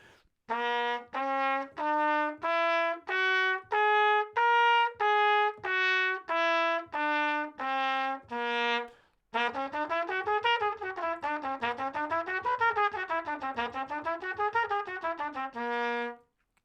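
A trumpet plays a strange-sounding whole tone scale from C in separate held notes, then runs rapidly up and down it before ending on a sustained tone.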